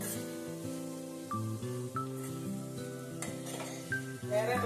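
Spice-coated vegetable curry being stirred in a hot pan with chilli and coriander powders, a steady sizzle under repeated scraping strokes and light clinks of the spoon against the metal, close up with a harmonic musical hum running beneath.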